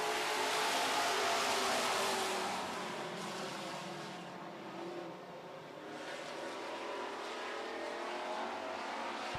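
Super stock race cars roar around an oval track in a heat, engines loud and sustained as the pack sweeps past, swelling and easing in waves with no talk.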